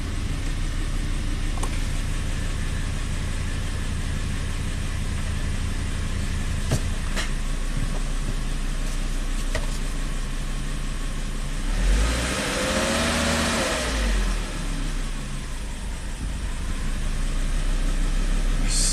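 A repaired Volvo car engine idles steadily and loudly throughout, with a few faint clicks, then rises in a swelling rev and shudder as it is put in gear before settling back to idle.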